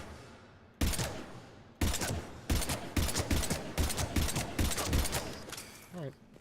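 Bursts of gunfire from a weapon in Mass Effect 3, rapid volleys of shots separated by short pauses, loud and close.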